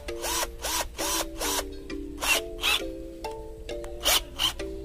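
A bit being tightened into the chuck of an Izom 20V cordless drill: short repeated whirring bursts with rising pitch, close and fairly loud, separated by brief pauses.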